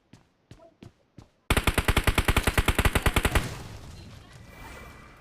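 Rapid automatic rifle fire from a battle royale video game, several separate shots followed by a long steady burst at a vehicle, then a fading rumbling tail.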